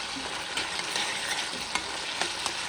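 Oil hits a hot pan and crackles in a bright continuous sizzle, close up, with a few faint clicks and pops scattered through it.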